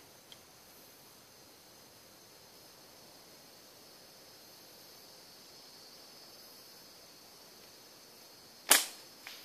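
Quiet outdoor hush, then a single sharp slingshot snap near the end, followed by a faint small knock as the shot misses a small target.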